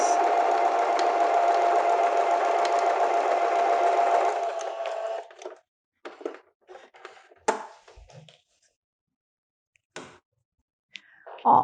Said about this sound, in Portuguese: vou passar uma costurinha. Unindo os 2 tecidos.